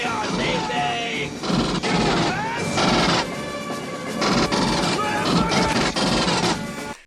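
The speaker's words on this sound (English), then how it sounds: "Drake and Vasquez disobey a direct order to sling the smart guns, and they cover the escape of the Marines putting down suppressing fire" Smart guns laying down suppressing fire in the 1986 film Aliens, heard as loud bursts of automatic gunfire and crashing impacts mixed with a dense action soundtrack, coming in repeated waves over several seconds.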